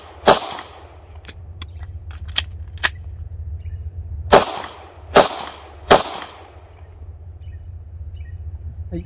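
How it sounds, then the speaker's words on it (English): Gunshots at an outdoor shooting range drill, fired as a group of rounds, a reload pause, then more. Loud, sharp cracks ring out with lighter clicks between the groups over a low steady hum. "our task will be to fire 3 rounds, reload, and fire 3 more"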